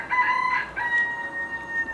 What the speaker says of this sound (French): Le chant du coq.